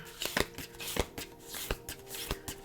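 Cards are shuffled in quick, crisp bursts of riffling and snapping, close and fairly quiet, with short pauses between.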